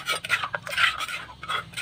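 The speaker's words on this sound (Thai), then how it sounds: "พริกแกงที่ได้เราก็เอามาละลายในน้ำที่เราตั้งไว้นี่แหละ" Curry paste is stirred into water in a pot, giving scraping, clinking strokes of a utensil against metal in an irregular rhythm, close and fairly loud, with no speech.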